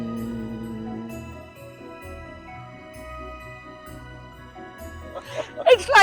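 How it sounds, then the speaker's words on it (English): Bees buzz among wildflowers in a rewilded meadow: a steady, low, layered drone that holds throughout, with a brief louder rustle near the end. "It's the bees."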